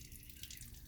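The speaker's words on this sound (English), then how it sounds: "I'm just gonna open her up and just let her run out." Water running out of a homemade solar shower, a faint, close trickle and splatter with a steady wet hiss throughout a brief moment.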